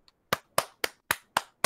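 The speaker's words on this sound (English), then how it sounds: "can we get a round of applause?" Six sharp hand claps in a steady, even rhythm during a casual podcast-style hangout, close and fairly loud with no talking over them.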